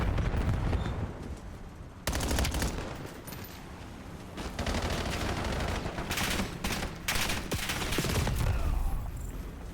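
Burst-fire weapons crackle in a Black Ops 7 match, with repeated short volleys of gunshots and booms layered in a busy, fairly quiet multiplayer battle mix.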